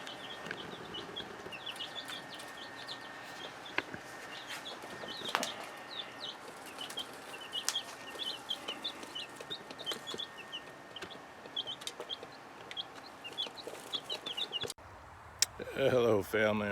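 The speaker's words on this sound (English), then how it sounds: "that is the chicks chirping in the background" Chicks and hens in a backyard micro orchard chirp and cluck repeatedly in the background, with steady soft peeping throughout and a louder burst of activity near the end, under ongoing outdoor garden work.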